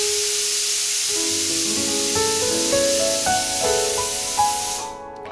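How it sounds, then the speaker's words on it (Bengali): A pressure cooker on an induction stove lets off its whistle as a loud, sustained rush of steam with wavering tonal notes, continuing for several seconds before fading out at the end. "প্রেশার কুকারের সিটির আওয়াজটা তো আর কিছু করার নেই"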